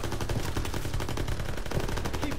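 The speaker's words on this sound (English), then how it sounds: "MGs, open fire!" Machine guns rattle in a Call of Duty battle, dense continuous automatic fire layered from several weapons, loud and unbroken for a couple of seconds with no voices.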